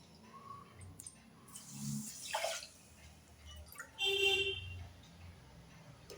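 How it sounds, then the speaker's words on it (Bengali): Water poured from a bowl into another bowl for sugar syrup, with a brief gush and trickling splashes against low kitchen background noise, heard alone. "এবার এই বাটিতে আমি 2 বাটির জল দিচ্ছি।"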